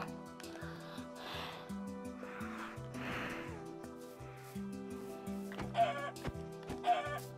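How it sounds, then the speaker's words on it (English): In the video game Minecraft, chickens cluck in soft repeated bursts over a steady tonal game music background, with a couple of sharper squawks near the end. "Die, chicken."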